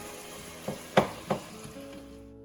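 Ground beef browns in a pan with a faint, soft sizzle under a few scraping stirs, one sharper clatter of the utensil standing out, fading quieter toward the end.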